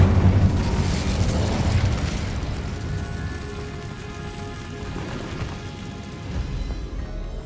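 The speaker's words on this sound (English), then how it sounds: "Incendio." Incendio fire spell cast in Hogwarts Legacy, a loud low booming burst of flame right at the start that settles into a steady crackling, rumbling roar lasting several seconds, with a smaller swell near the end.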